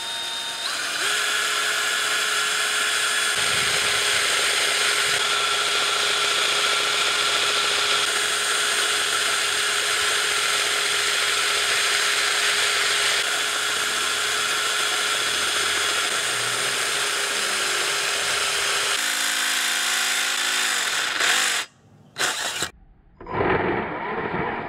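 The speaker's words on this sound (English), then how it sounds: "So now we drill a 14 millimeter hole in the bottom." A power drill bores a 14 mm hole in the bottom of a strut housing on an MR2 Spyder, a loud, sustained whine held at a steady pitch for about twenty seconds, ending in a few short bursts.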